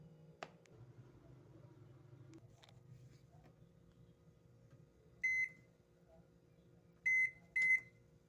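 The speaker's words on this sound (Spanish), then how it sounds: "llevaremos al microondas aproximadamente 1 minuto a calentar" Microwave oven heating a salt and water mixture, a faint low hum that stops after a click, followed by three sharp electronic beeps, one alone and then two close together.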